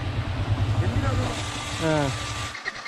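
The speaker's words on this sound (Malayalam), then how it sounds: "എഞ്ചിൻ നിന്നിട്ടില്ല അല്ലേ? എഞ്ചിൻ നിന്നിട്ടില്ല." An off-road vehicle's engine keeps idling on a misty mountain trail at Palkulamedu in Idukki, a steady low drone beneath a voice that cuts out just before the end.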